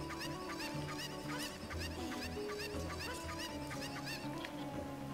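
A chicken in the video game Zelda Ocarina of Time Master Quest clucks in quick repeated bursts over a steady, loud bed of game music and ambience.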